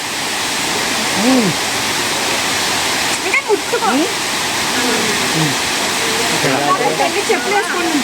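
A steady rushing roar of falling water fills the scene, with people's voices faintly heard over it.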